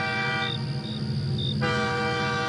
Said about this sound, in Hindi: तभी दूर से एक हॉर्न सुनाई देता है।